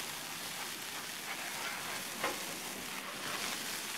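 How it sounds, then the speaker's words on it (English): Smash burger patties sizzle on a hot grill as a metal scraper works beneath them, making a steady, fairly faint frying hiss with one brief scrape partway through. "Very important to scrape these off the grill to get all that delicious caramelization"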